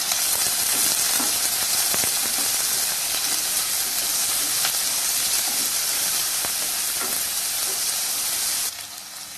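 Onions with light salt sautéing in a pan for vendhaya keerai kuzhambu give a loud, steady hiss and sizzle with occasional faint stirring taps, easing off slightly near the end.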